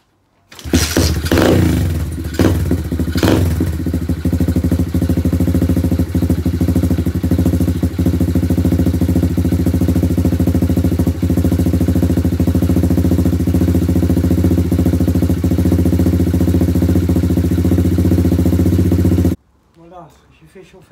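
Dirt bike engine starting and idling steadily to warm up after an oil change, a loud close, continuous rumble lasting most of the time before cutting off abruptly near the end.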